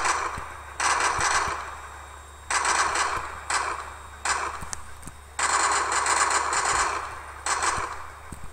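Automatic fire from an M4A1 assault rifle in a modded video game, delivered in four long sustained bursts with short pauses between, loud and close, over a steady low hum.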